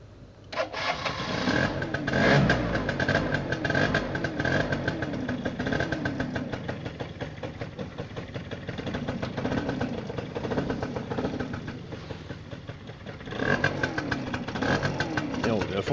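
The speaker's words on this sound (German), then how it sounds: "Kurzen Soundcheck, dass er noch geht, der Roller." A motor scooter engine starts and then idles with a steady, close, mid-pitched putter that runs for the whole stretch, with people talking over it.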